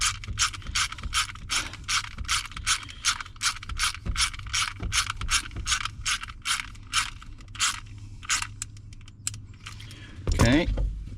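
A ratchet wrench tightens a part during an ignition switch replacement on a 2001 Super Duty truck, giving a long run of quick, evenly spaced close clicks that slow and thin out near the end, followed by a brief clunk.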